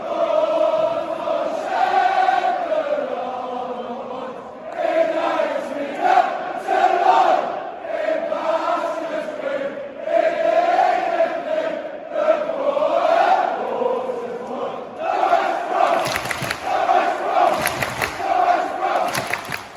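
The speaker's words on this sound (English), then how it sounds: "They're the crowd. They're the ones that are singing." A large football crowd singing together in a stadium, a loud sustained chant with a rising and falling melody, joined near the end by sharp bursts of clapping.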